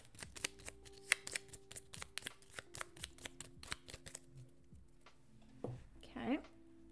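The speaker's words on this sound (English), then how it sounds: "shuffle up the cards." Playing cards being shuffled by hand during a solo tabletop board game session, a rapid series of crisp riffling clicks and snaps, close and fairly quiet, with a voice briefly murmuring near the end.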